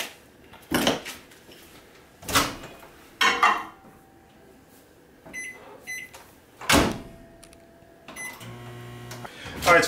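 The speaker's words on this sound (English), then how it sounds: "Throw that in the microwave, a minute should do it" A kitchen microwave used to melt butter for an apple pie filling: several sharp clunks of the door and dishes, then a short series of electronic beeps, with quiet room noise between.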